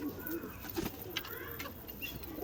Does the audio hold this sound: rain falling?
no